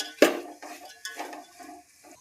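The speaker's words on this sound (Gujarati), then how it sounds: "એને પણ સરખુંથી હલાવી નાખશું." A spoon stirs a thick potato and green pigeon pea kachori filling in a pan, with a sharp metallic clink at the start followed by a few scraping, squelching strokes, close and quiet, no talking.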